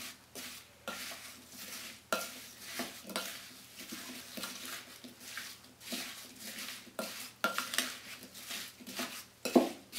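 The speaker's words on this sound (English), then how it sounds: "now we're going to just mix this together" Apple bar batter of flour and sugar is stirred together in a bowl, giving soft scraping and clinking of a utensil against the dish, fairly quiet and continuous with a few louder knocks.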